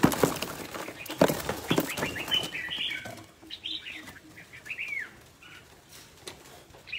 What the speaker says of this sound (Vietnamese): Chim này, to cho bà.